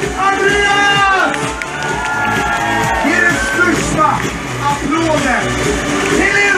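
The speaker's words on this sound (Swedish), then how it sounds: "En stor applåd till min kära Andreas!" A crowd at a concert in Sundsvall in 2016 cheers and whoops loudly, with voices shouting and yelling in a continuous roar close by.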